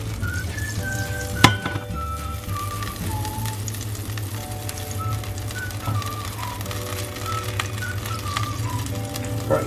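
Butter melts in a greased frying pan with a soft, even sizzle, faint and continuous, alongside a thin whistling tone.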